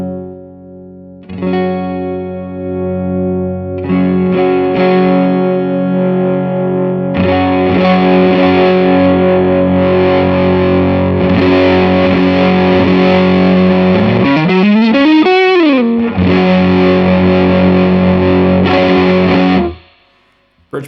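Electric guitar on the neck pickup runs through a PRS Horsemeat transparent Klon-style overdrive pedal, playing loud, sustained overdriven chords and notes with a sliding, wavering passage near the end before cutting off abruptly.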